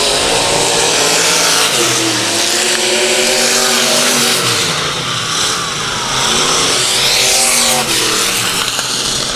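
Race cars lap Whiskey Lake Raceway at night, engines roaring loud and continuous as several cars pass close with rising and falling revs through lap traffic.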